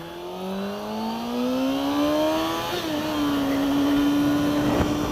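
A motorcycle engine revving as the clutch is worked, a steady close whine that climbs in pitch, dips suddenly, then holds a level drone.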